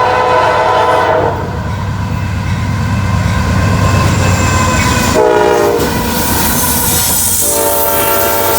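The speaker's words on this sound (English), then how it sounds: "Got us a grain train here heading south." A loud southbound grain train rumbles close by with a blaring horn sounding in several blasts, wheels clattering steadily over the rails throughout.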